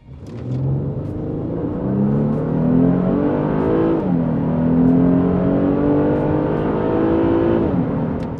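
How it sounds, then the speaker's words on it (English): A Mercedes wagon's engine revs up hard under full acceleration from a stop to 60 mph, climbing in pitch and dropping briefly at each gear shift. The rumble is loud and close. "Here we'll come to a stop and give y'all a full acceleration run here."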